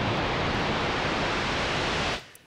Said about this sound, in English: And you can create white noise if you want.